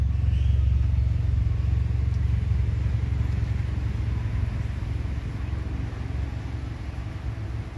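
A 2015 Daihatsu Xenia R Sporty with a 1.3-litre engine and manual gearbox idles with a steady, low, continuous rumble, heard close up with no change in pitch.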